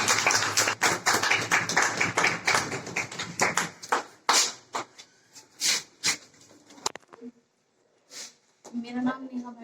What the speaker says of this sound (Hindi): वेलकम करें तालियों के साथ।